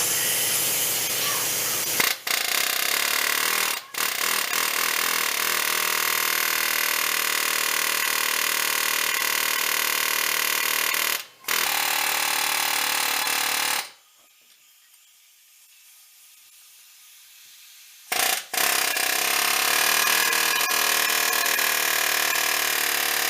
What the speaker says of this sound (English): Let me show you the before with using the air chisel.